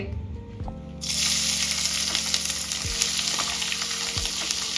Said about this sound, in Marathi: थोडेसे ऑइलमध्ये फ्राय करून घ्यायचे आहे म्हणजे त्याचा जो स्मेल असतो तो निघून जाईल